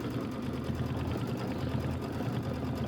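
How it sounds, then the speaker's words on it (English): A quilting machine stitching a Kimberbell Pumpkins and Potions quilt border: a steady, dense mechanical whir with rapid needle chatter running continuously, up close and without talk. "It's 21 minutes of stitching."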